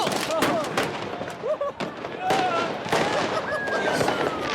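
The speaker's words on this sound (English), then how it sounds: "Every kid above the age of 5 seems to have been issued a lighter and a fistful of fireworks." Fireworks and firecrackers burst repeatedly in a crowded public square in Libya, loud cracking and popping volleys with whistling rockets overlapping continuously, crowd voices and shouting mixed throughout.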